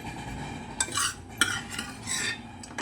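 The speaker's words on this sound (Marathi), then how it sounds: "मी पण घरी बनवायची अशी मटक्यात असे हलवून घेऊया मिक्स करू" Spicy Kolhapuri misal being stirred in a pot, a few scraping clinks of a spoon against the metal in short irregular bursts over a faint sizzle, close by with no talk.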